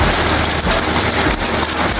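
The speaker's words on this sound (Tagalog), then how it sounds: "ngayon lang na umulan ng yelo dito mga boss" Heavy hail pounding down in a steady, loud, dense roar of impacts on surfaces, with no pauses and no voices over it.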